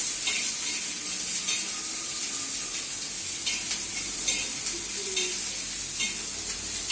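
Chopped onion sizzles and hisses steadily in a hot pan while it is stirred, giving a close, continuous frying sound with faint scraping and no speech.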